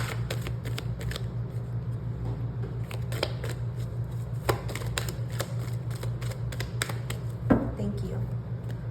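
Tarot cards shuffled by hand during a card reading, a steady run of soft riffling flicks and taps over a constant low hum.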